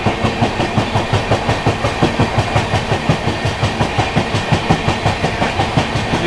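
Gorakhdham SF Express overtaking the Purushottam Superfast Express near Firozabad: a steady, loud rhythmic clickety-clack of train wheels over rail joints with a continuous rumbling roar, no voices.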